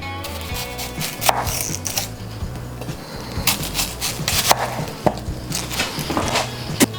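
Onions are chopped with a knife on a cutting board for beef steak fajitas, producing irregular sharp knocks and quick bursts of cutting at close range, with no talking.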